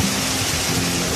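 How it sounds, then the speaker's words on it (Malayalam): Heavy, continuous rain pours down in a steady broadband hiss with no gaps between drops, loud and close throughout the short stretch, with no voices. "അത്രയ്ക്ക് ഹെവി മഴയാണ്, രക്ഷയില്ല."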